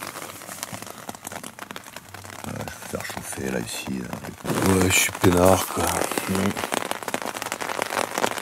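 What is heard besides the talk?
rain falling on a tent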